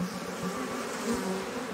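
Dense, steady buzzing of a large swarm of aggressive Africanized honey bees around a honey harvest, a continuous close drone with no voices.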